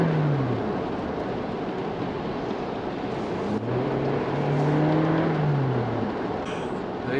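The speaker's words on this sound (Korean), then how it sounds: "가속할 때 엔진 사운드 상당히 괜찮은데요." A fifth-generation Toyota Prius accelerating, its engine rising in smooth pitch sweeps that climb and level off under steady road and wind noise inside the cabin.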